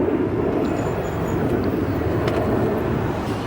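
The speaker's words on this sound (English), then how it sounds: "that's United Airlines Flight 770, a Boeing 787-8 arriving in from Barcelona, Spain" A United Airlines Boeing 787-8 arriving at O'Hare airport makes a steady, broad jet rumble that holds at a constant level without a clear rise or fade.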